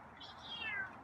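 One short, soft meow from a feral cat, drawn out and slightly rising then falling, fairly faint against a quiet outdoor backdrop.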